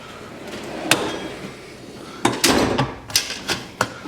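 Tools clatter in a mechanic's toolbox as a specialty drawer of quick disconnects, fin straighteners and brake line benders is handled, giving a few sharp metallic knocks and rattles close by, spaced irregularly over a quiet background.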